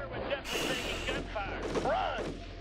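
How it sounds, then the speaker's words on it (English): Gunfire from a battle in the strategy game Shadow Empire, a burst of rapid shots mixed with booms, heard under a voice talking throughout. "sir, we're definitely taking gunfire."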